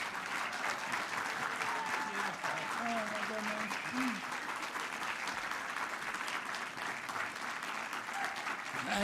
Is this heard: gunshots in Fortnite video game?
no